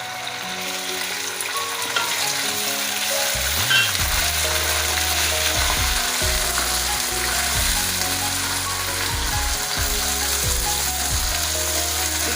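Chicken pieces frying with golden-browned onions in a pan, a loud continuous sizzle with repeated clattering and scraping of a spoon stirring against the metal.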